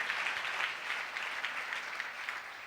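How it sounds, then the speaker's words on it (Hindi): Congregation applauding during a live church sermon, a brief, fairly faint patter of many hands clapping at a steady level. "जोरदार तालियां बजाएं उस शख्स के लिए।"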